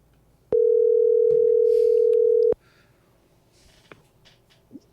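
A telephone line gives a single steady electronic tone after a dropped call, lasting about two seconds and starting and stopping sharply, with faint room noise and small clicks before and after.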